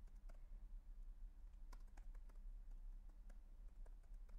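Quiet, close clicking of a computer keyboard as a post title is typed, a short irregular run of soft keystrokes over a low steady hum.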